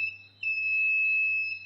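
A multimeter on continuity mode gives one steady, high-pitched electronic beep lasting over a second while its probes touch a pair of connected motor coil wires, with a faint low hum underneath.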